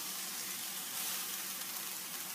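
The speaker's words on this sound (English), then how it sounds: "now we've got our noodles frying" Noodles for a spicy peanut tofu pad thai sizzle in a hot pan with a steady, bright, crackling fry that stays even throughout, and no one speaks.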